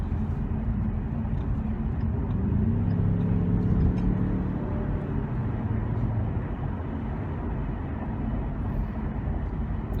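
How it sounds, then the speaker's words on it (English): 2017 Ford Mustang accelerates onto a highway on-ramp with a steady low engine rumble and road drone, heard from inside the car, even and unbroken throughout. "This car has such great acceleration for getting on the on-ramps and passing people"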